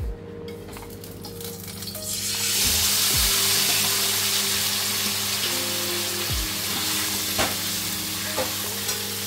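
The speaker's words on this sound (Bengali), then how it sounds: "মাংসটা যে ম্যারিনেট করে রেখেছিলাম, এবার আমি এটা এর মধ্যে দিয়ে দেবো।" Marinated mutton pieces hit hot oil in a pan for a Bengali curry, setting off a loud, steady sizzle and frying hiss that swells after the first seconds and continues throughout, with occasional clinks of a stirring utensil and no talk.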